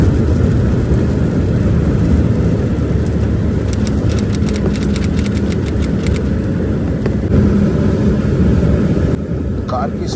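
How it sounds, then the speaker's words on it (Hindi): Heavy cloudburst rain pounds the roof of a car as it drives along a road, a dense, steady roar that blends with road and engine noise from start to finish. "बूंदें इतनी भारी हो रही है, गाड़ी के ऊपर लग रहा है पत्थर गिर रहे हैं"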